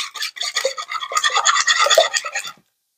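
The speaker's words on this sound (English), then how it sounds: "I'm just gonna give these a little whisk" Eggs being whisked in a bowl, a rapid close scratchy rattle of the whisk against the bowl, loud and continuous for a couple of seconds before stopping abruptly.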